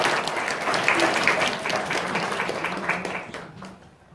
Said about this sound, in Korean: 우리 서로 축하하는 의미로서 한번 박수로 서로 격려 한번 하겠습니다